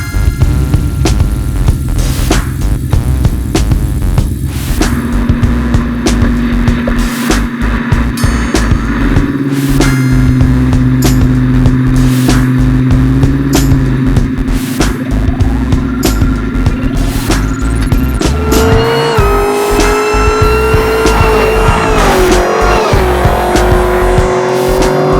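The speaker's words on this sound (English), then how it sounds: "Hear the whine of that blower, don't you, man?" A supercharged 1969 Chevelle garage build, rated at 760 wheel horsepower, roars loud and close, its engine throbbing with a steady blower whine that rises in pitch as it revs toward the end.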